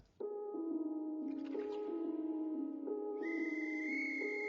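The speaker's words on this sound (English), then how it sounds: "there's the whistle, 9 o'clock" Long sustained whistle blown to start a fishing match outdoors, one loud continuous blast with shifting pitch, close and alone.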